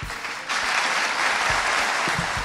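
An audience at an Argentine business gathering breaks into sustained applause after a brief quieter moment, the dense clapping holding steady and loud to the end.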